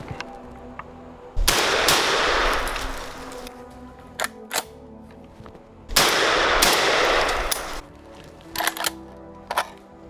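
An SAS-12 shotgun firing cheap birdshot outdoors: two loud booming blasts with long echoing tails, followed by scattered metallic clanks and clicks of the action and handling between shots.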